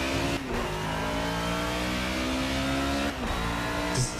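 Race car engine in the video game Project Cars, revving hard and accelerating with a steady, loud harmonic whine, broken by brief gear-shift dips before climbing again; no talking.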